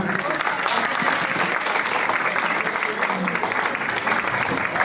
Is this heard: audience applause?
yes